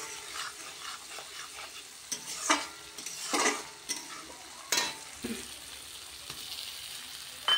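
Masala with Kashmiri red chili powder and tomato is stirred and sautéed in a pan, giving soft close sizzling broken by irregular scraping bursts of the spoon, with no voices.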